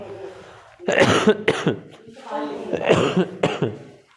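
Two bursts of harsh coughing, each a quick cluster of coughs separated by a short pause, loud and close.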